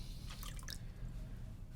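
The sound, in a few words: water added to clay on pottery wheel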